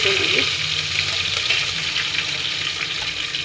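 Onion pieces frying in oil with cardamom, cloves and whole spices for a raw prawn biryani, a loud continuous sizzle close up, with light stirring noises.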